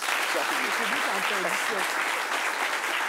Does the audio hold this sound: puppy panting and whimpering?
no